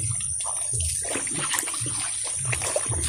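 Water splashing and sloshing in a warm, naturally heated bathing well as someone bathes, with irregular close splashes and trickles over a steady background hiss.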